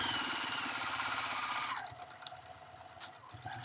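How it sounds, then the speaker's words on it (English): A Juki TL-2010Q sewing machine stitches through four layers of denim with a steady, fast mechanical chatter close by, then slows and quiets, leaving softer clicks and handling noises. "Here I'm going to be sewing on four layers of denim"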